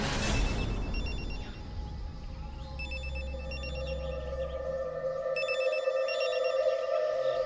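Telephone ringing in a tense domestic drama scene: repeated electronic bell-like trills in regular bursts, steady and moderately loud over a background music bed.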